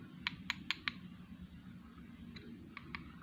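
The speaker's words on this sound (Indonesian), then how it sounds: "Kliker yang ke spool yang membuat bunyi saat diputar knopnya" Clicker on a Ryobi Maturity 3000 spinning fishing reel, the spool-side clicker that sounds as the knob is turned: a quick run of four sharp clicks, then a few fainter clicks a moment later, close and alone over a low hum.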